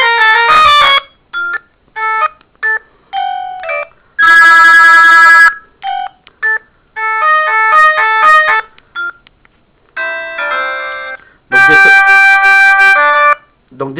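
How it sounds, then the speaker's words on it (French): Loud, strident incoming-call ringtone from a Clap Easy senior mobile phone, a bright electronic melody in repeated bursts with short gaps, close and alone. "je vais vous faire écouter dans les sons le son des appels entrants, puisqu'il est très fort"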